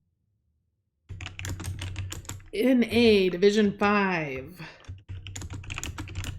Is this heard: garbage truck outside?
no